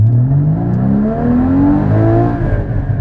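A 2016 Porsche Cayman GT4 engine revs up under acceleration, a loud, close, steadily climbing engine note over about three seconds.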